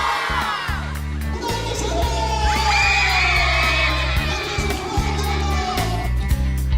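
A group cheers, whoops and shouts during recreation games held after a meal at a sports council event, a lively, steady crowd din with overlapping yells across the whole stretch.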